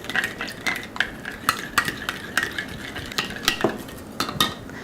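A whisk clinks steadily against a bowl as balsamic vinegar is beaten into a salad dressing, with quick, regular metallic taps and a soft swishing underneath. The whisking is close and fairly quiet, and no one talks.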